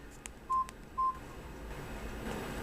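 A Samsung A167 cell phone beeps through Tetris, two short identical electronic tones in quick succession, close and clear over a faint hiss, followed by soft clicks.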